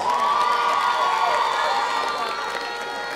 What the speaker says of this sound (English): we shall give a round of applause.